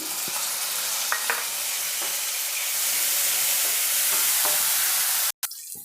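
Small-cut chopped tomato frying in a pan for spinach garlic curry, a loud steady sizzle with light stirring scrapes, ending in a brief abrupt dropout.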